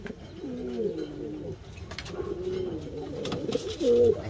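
Pigeons cooing in a pigeon loft in Valencia, a run of repeated throaty, rolling coos close by with overlapping birds and no speech.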